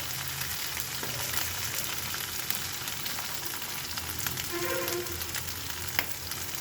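Pointed gourd sizzles and fries in oil in a pan at home, a steady, close crackling hiss with scattered small pops, continuing without talk.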